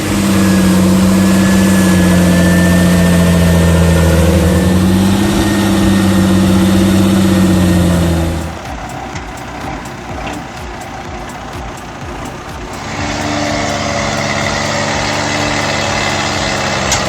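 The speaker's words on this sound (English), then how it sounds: "Stuck deep and spinning hard, this MTZ-82 isn't going anywhere" An MTZ-82 tractor stuck deep in mud runs its engine hard and steady at close range, the drone easing and dropping to a rougher, quieter rumble partway through before rising again; no one speaks.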